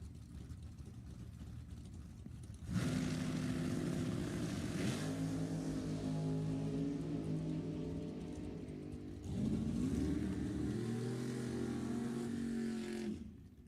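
A Nova drag race car at a race club event roars steadily from a distance, its engine note rising and shifting as it runs down the strip, then surging again later; a continuous, moderately loud droning with no talk.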